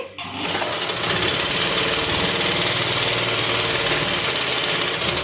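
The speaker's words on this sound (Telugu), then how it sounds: "ఒకవేళ మోటార్ అది క్లచ్ గట్టిగా తొక్కారనుకోండి ఎలా వెళ్తుందో ఒకసారి చూడండి" A tailoring sewing machine's electric motor runs flat out with the clutch pedal pressed hard, giving a loud, steady, fast whirring drone that starts abruptly and holds without pause.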